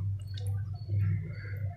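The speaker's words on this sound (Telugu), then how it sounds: "ఇలాగ ఉడుకుతుంది కదా" Tomato and tamarind lentil stew simmering in a pot on an Andhra home stove, a steady low bubbling hum with faint scattered pops and ticks, close and continuous with no talk.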